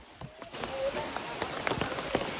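Light rain patters steadily on surfaces, with scattered louder drops and faint background voices.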